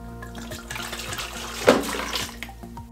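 Water spills and splashes while an ACS Evo Leva espresso machine is being filled, a steady close-up rush of pouring liquid over about three seconds with a brief louder splash partway through and no talking.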